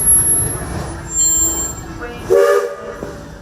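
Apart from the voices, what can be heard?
Magic Kingdom train in motion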